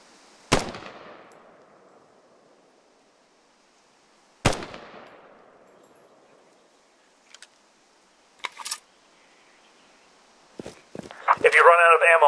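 Two heavy, booming high-caliber designated marksman rifle shots in the game Squad, spaced several seconds apart with long decaying tails, followed by fainter clicks and clatter of handling and a brief burst of noise at the end.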